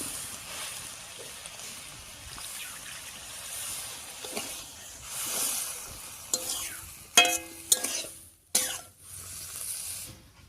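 Pumpkin greens curry with eggplant sizzling softly in a pan as a little water is poured in, a brief bubbling rush followed by stirring scrapes and sharp utensil clinks near the end.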